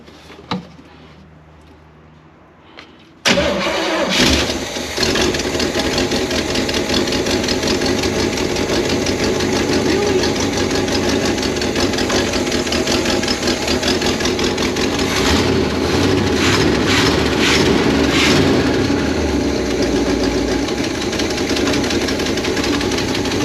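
A van engine cranks after a near-silent moment, then catches and runs on steadily with an uneven, stumbling misfire beat throughout, loud and close.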